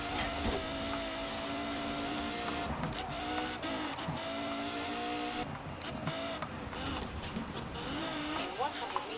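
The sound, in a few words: exotic car engine driving in Forza Horizon 4 video game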